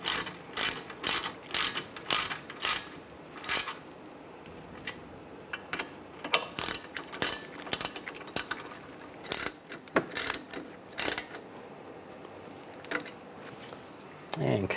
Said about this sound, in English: Now you want to tighten these bolts down.